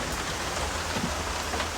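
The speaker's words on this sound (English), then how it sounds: "She needs to be in here while it's raining" Dense, steady rain hissing on a surface close by, an even wash of patter without any talk.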